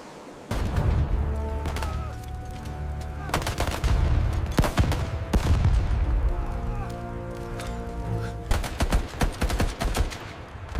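Sustained machine-gun and rifle fire rattles through a chaotic World War II beach landing, dense bursts and sharp cracks overlapping with heavy booms, loud and continuous with brief lulls between volleys.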